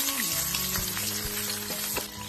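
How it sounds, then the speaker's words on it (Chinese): Fish fries in a hot pan with a dense, continuous close sizzle and occasional pops and spits, loud and steady throughout, with no talking. "把鱼先煎至底面定型"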